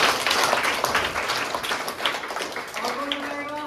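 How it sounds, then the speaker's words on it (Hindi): Students in a classroom clap together in a burst of scattered applause that fades out, followed by a voice speaking near the end. "सब तालियां बजाएंगे।"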